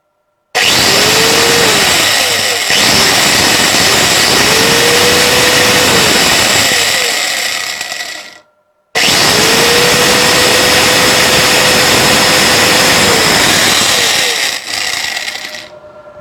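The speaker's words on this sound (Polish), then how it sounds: "Uruchamia bez problemu szlifiereczkę." An angle grinder powered through a 24V/230V voltage inverter spins up with a whining tone, runs loudly for several seconds and winds down, then starts again for a second long, close run.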